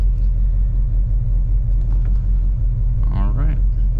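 A 1968 Pontiac GTO on a test drive gives a steady, loud low engine rumble that runs without a break, with a brief voice near the end.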